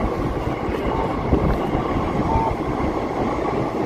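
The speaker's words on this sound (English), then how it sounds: "However, we have to see a train." A train passes through Ginza in Tokyo, rumbling steadily and loudly nearby with faint wheel clatter and a brief squeal, and no voices are heard over it.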